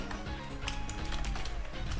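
Quick, close clicks of keys being typed on a computer keyboard, a steady flurry over faint Pokémon Platinum music in the background.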